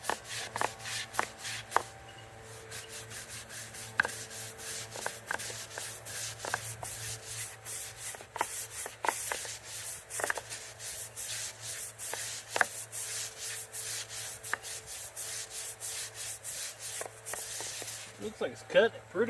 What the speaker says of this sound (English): Find something else to scrub that with.